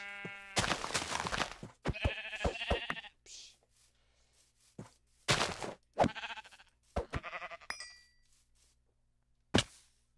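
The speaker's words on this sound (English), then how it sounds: "It really does sound like you're brutalizing sheep when you do this." Bleats from Minecraft sheep come in several short, harmonic bursts separated by gaps. Chimes and clinks from the game are mixed in, and there is no talking.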